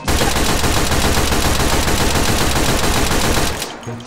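Rapid, sustained gunfire from a sniper's close-range weapon in the VR shooter H3VR, a dense continuous burst that runs loud for about three and a half seconds before cutting off abruptly, leaving faint trailing echoes.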